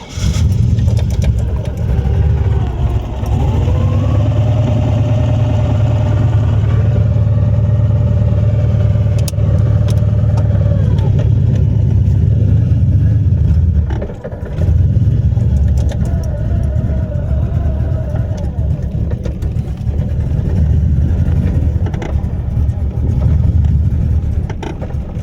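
LT1 V8 swapped into a Mustang with a T56 manual, idling steadily after a cold start, a deep, loud, continuous rumble with slight shifts in pitch and a brief dip midway.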